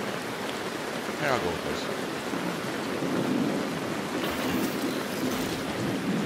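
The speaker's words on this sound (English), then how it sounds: "I have my rain going in my background." Rain plays steadily in the background, a dense even hiss at moderate level, with someone speaking briefly over it.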